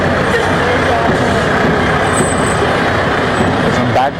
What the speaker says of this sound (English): Engine number 80.